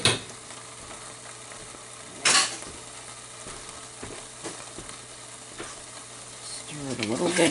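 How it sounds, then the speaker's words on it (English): Tomato paste and puree stirred together in a pot for meatball sauce, a soft steady scraping and churning with a sharper clatter near two seconds and a brief rattling scrape at the end. "Start stirring it. Mixing everything together. The tomato paste and the puree."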